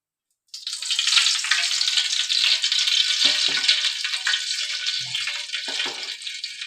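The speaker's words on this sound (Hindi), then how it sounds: "अभी हम इसमें ऑयल डाल देंगे।" Hot oil poured into a large cooking pot for frying, heard as a steady, bright, hissing rush that starts abruptly and continues loudly for several seconds with slight fluctuations and no talking.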